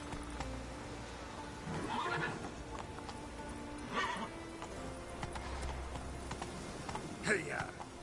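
Horse hooves clip-clop at a gallop with repeated whinnies and neighs from Roach, a horse in The Witcher 3 video game, ridden at speed, while a voice urges it on over steady background sound.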